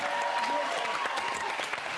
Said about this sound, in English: A round of applause for Katie.